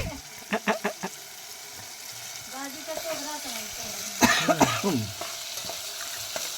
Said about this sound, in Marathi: आता पनीर मसाला टाकलाय दाजीने